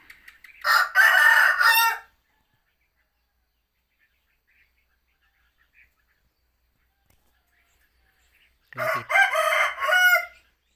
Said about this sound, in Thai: ได้ยินเสียงไก่นะ เนื่องจาก ผม เลี้ยงไก่ด้วยนะครับ